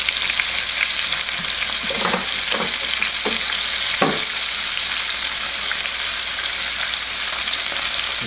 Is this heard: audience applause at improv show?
no